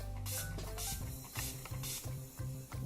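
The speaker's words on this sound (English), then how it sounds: "using the Urban Decay All Nighter Makeup Setting Spray, so just spritz the face with it to set all of the makeup" Urban Decay All Nighter makeup setting spray is spritzed onto a face in several short, close hissing bursts, with the pumps coming in a quick, uneven rhythm over soft background music.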